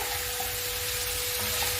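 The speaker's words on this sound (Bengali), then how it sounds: "এগুলোকে একসঙ্গে আমি সামান্য একটু সাঁতলে নেব" Chicken pieces sautéing lightly over raised gas heat in a pan for a home-style stew, a soft continuous sizzle with faint stirring, fairly quiet and steady throughout.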